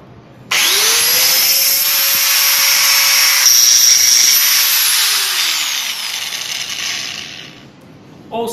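A standard Bosch angle grinder with no speed adjustment spins up sharply and runs at full speed in a loud, high steady whine, then winds down toward the end.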